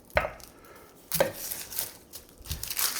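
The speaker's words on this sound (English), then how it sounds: "Now, next step is to take our onion. We're going to cut it up." A knife chops through an onion on a cutting board in three distinct, fairly close strokes, each a sharp thunk followed by a short crunch, with quiet pauses between them.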